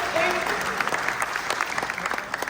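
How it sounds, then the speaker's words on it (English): Audience at a Philadelphia budget town hall breaks into applause for a cleanup team member, a close burst of many hands clapping with individual claps standing out, with a voice briefly heard over it. "Give him a round of applause."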